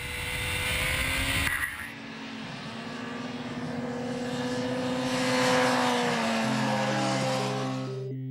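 A Kawasaki ZX-10R Ninja sport motorcycle revs hard while riding, its engine note holding loud and steady, then climbing and shifting pitch before settling into a lower drone near the end, with no talking.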